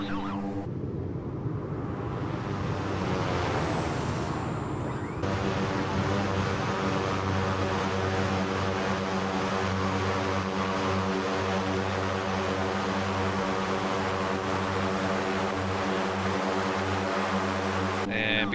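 OV-10 Bronco twin-propeller aircraft climbing out after takeoff in Microsoft Flight Simulator, a loud steady drone of engines and props with strong harmonic hum, shifting pitch briefly before settling into a constant roar.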